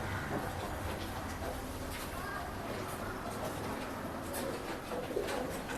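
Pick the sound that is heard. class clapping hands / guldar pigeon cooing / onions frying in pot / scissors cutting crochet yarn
guldar pigeon cooing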